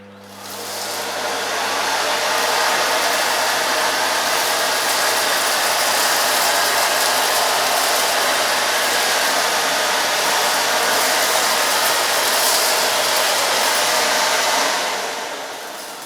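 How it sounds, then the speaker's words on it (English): A Miele S4780 cylinder vacuum cleaner runs steadily, giving a loud, continuous broadband whoosh of airflow and motor. It swells in over the first second, holds constant and eases off near the end, with no talking. "I just need to leave the machine running a bit longer"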